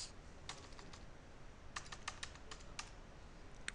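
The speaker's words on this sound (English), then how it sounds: "Type an IP address." An IP address is typed on a computer keyboard in a few quick, faint bursts of key clicks against a quiet background.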